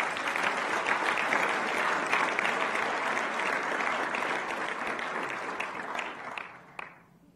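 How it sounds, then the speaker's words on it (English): A large crowd at a university graduation ceremony in Kigali applauds the graduates with sustained, even clapping that holds for several seconds, then thins out and fades to a few last claps. "Let's give them a round of applause."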